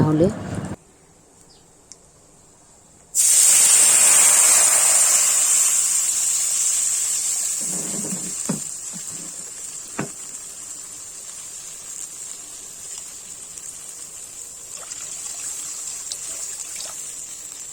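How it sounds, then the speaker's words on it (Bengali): Water is poured into a hot pan of turmeric powder, and a loud, sudden steam hiss bursts out, then slowly fades to a steady simmering sizzle with a few faint clinks. "হলুদ গুঁড়ো দিয়েই আমি জল দিয়ে দেবো কারণ হলুদটা পুড়ে যাবে"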